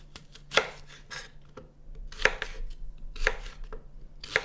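Fresh apple being chopped with a knife on a board, four sharp, separate cuts spaced about a second apart against a quiet background, with no talking.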